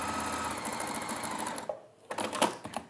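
Sewing machine stitching fabric for an armchair tidy, a steady close-up whirring run of needle strokes that stops abruptly, followed by a few short bursts of stitching and light handling noises.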